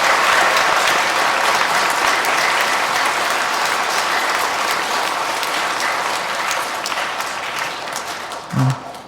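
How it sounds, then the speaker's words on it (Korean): Catholic congregation clapping at a Christmas night Mass to welcome two seminarians, a long even roll of applause that slowly thins toward the end, with a brief bump of sound near the close. "박수."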